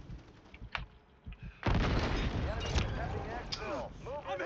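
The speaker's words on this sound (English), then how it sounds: "Somebody is shooting, man" Gunfire erupts in a Warzone 3 Plunder match. A few scattered thuds lead into a sudden loud, sustained burst of shots, with excited voices talking over it.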